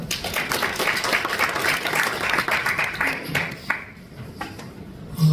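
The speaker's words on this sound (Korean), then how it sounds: "여러분 박수로 모시겠습니다" Audience applause welcoming a guest speaker, a newspaper publisher, at a panel discussion in a National Assembly members' office building meeting room; steady, dense clapping fills the room for several seconds, then thins out into a few scattered claps.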